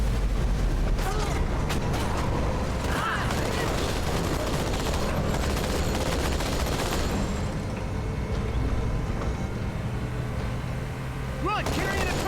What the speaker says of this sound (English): having an intelligent partner on the gun means there's always someone shooting